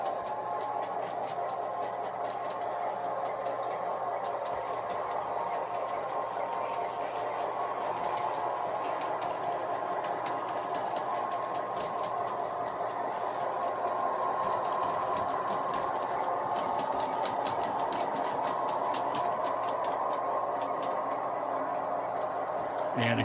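A large-scale model train locomotive rattles steadily along its track, passing through a siding without slowing, a continuous whirring clatter with faint clicks, no voices.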